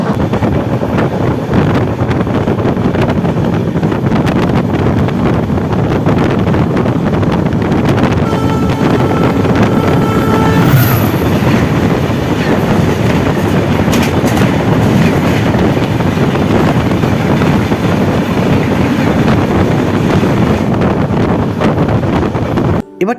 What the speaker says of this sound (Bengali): এখন আপনাদের সঙ্গে সাক্ষাৎ করাবো কন্যাকুমারীগামী বিবেক এক্সপ্রেসের